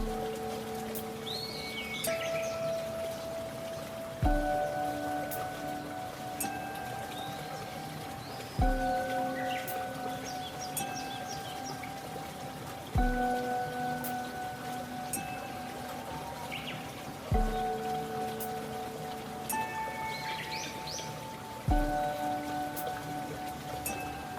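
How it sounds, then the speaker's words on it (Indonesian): Steady rain-like rushing water fills the scene at the Suco Lor waterfall in Bondowoso, with birds chirping faintly on top and sharp periodic thumps every few seconds. "Selamat datang di air terjun Sucolor"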